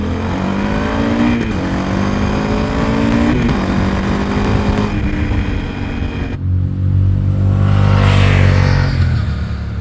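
A Triumph Speed Twin 1200 motorcycle with Akrapovic slip-on exhausts and a Motone X-pipe revs repeatedly, the pitch climbing and falling in close, loud blips. A deeper, heavier throttle roar follows near the end.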